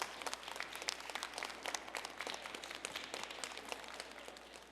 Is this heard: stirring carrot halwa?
no